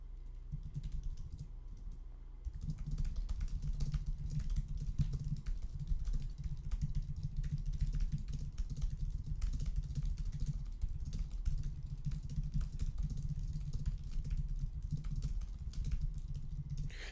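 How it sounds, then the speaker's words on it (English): Steady, close clatter of keys on a computer keyboard, fast and continuous for many seconds, with a brief pause near the start. "it's a lot easier for me to just type everything out."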